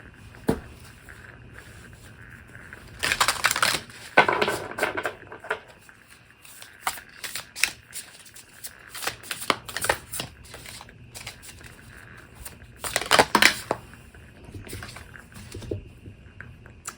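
A deck of Moonology Messages Oracle cards is shuffled close by in several brief, crisp riffling bursts separated by quieter handling rustles and taps.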